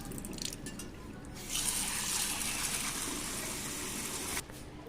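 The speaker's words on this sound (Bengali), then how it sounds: "মটর ডালটাকে খুব ভালো করে 2-3 বার ধুয়ে নেব।" Matar dal, split peas, being rinsed by hand in water, a soft steady swishing and sloshing with a slightly louder stretch in the middle, close and quiet with no speech.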